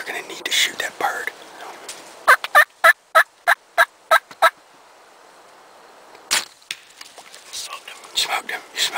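A wild turkey gobbles during a bow hunt, with a rapid burst of about eight sharp, loud gobbling pulses in the middle, and hushed whispering before and after.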